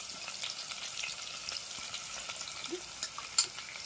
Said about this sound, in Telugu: ఇక పచ్చిమిర్చి వేస్తున్నా.